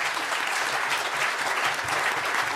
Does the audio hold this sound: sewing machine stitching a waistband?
no